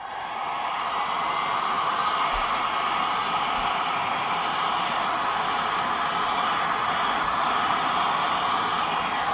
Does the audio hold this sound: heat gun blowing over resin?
yes